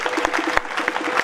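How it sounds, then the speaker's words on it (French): A school inauguration ceremony audience claps loudly, a brief dense patter of hand claps with sharper individual claps standing out, close and continuous. "que je vous demande d'applaudir très très fort"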